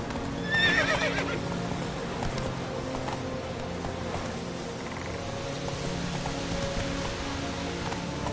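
In a PS4 video game, a horse lets out a loud whinny near the start and then gallops on with steady hoofbeats over a constant patter of rain, with no talk.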